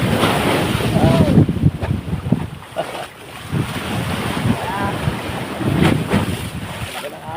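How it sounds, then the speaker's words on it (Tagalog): Large ocean waves crash and surge around a small boat near a rock formation, with heavy wind buffeting the microphone and occasional voices calling out over the loud, continuous rush of water. "Laki ng alon."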